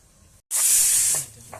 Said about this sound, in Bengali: সিটি মেরেই যাচ্ছে প্রেশার কুকার